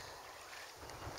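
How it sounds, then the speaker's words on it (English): Steady wind buffets the microphone outdoors at a lakeside campsite in the Boundary Waters, a faint, continuous rushing noise with low gusty rumble and no voices. "It's kind of windy today."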